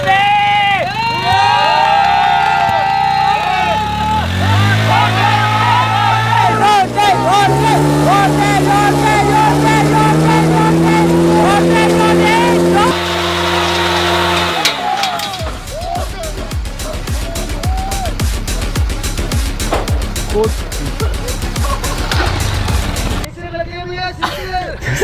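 A tyre launcher machine running in fifth gear spins up with a rising motor whine, then settles into a loud, steady buzzing drone with rapid rhythmic clatter, close by, with someone talking over it.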